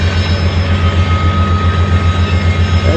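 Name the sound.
train passing over bridge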